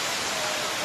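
Rain pours near a waterfall in Kanchanaburi, Thailand, forming a steady, loud, hissing wash of falling water with no pauses.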